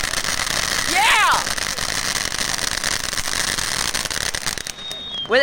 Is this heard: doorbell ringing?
no